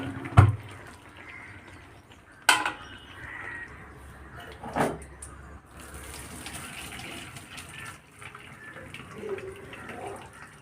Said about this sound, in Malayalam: ഇനി നമുക്കിതൊന്ന് വെള്ളം വാർക്കാൻ വേണ്ടിയിട്ട് വയ്ക്കാം